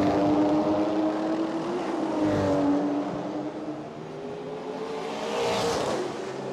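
A Mazda RX-7 and a Porsche racing on a street circuit in a Super Car GTC round at Chonburi, engines droning at a distance with rising and falling pitch as the cars pass, under a wash of crowd and ambient noise.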